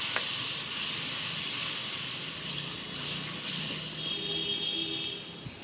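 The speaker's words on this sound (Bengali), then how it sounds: "হলুদ থাকি, মরিচ থাকি, আদা রসুন আর পেঁয়াজ একসাথে ভালো করে কষাই নেব" Turmeric, chili, ginger, garlic and onion frying together in a pan give off a steady, close hiss and sizzle that runs unbroken throughout, with no voices.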